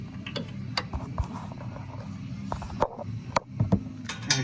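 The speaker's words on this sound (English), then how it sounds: "I like fumbling around with wrenches" A wrench works on a 5.4 header build, with quiet irregular ratcheting clicks and metallic taps that come in short uneven bursts over a low background hum.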